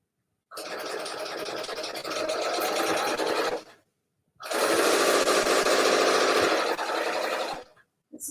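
A domestic sewing machine stitches quilt pieces together in a row, running in two steady bursts of fast, even mechanical whirring separated by a brief pause, close and loud with no talk.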